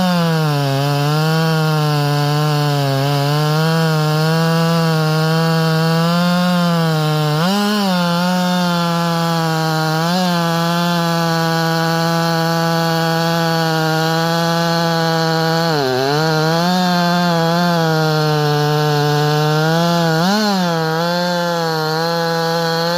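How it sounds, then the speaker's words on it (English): A ported Stihl-style 400 chainsaw with a 28-inch bar, full-comp square-ground chain and West Coast saw muffler port cuts a 3-foot Grand Fir, screaming loudly and continuously at high revs with brief dips in pitch as the chain bogs in the wood. "going to do some cuts on this 3-foot Grand Fir against my ported 400"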